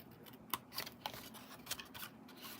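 Paper snips cutting through a piece of paper for a Hershey bar box, giving several quiet, crisp snips at irregular intervals over a soft background hiss.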